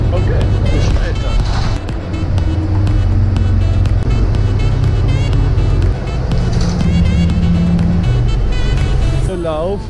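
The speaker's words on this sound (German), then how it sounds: "Wir fahren ungefähr 40 Minuten mit dem Bus bis zum Hotel" Inside a Miami Beach city bus on Line S heading north, a low engine rumble and road noise carry on throughout, with brief rattles and a hiss near the end, while people talk over it.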